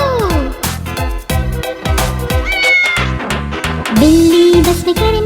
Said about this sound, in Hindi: बिल्ली बस में करे म्याऊ म्याऊ म्याऊ सारे शहर में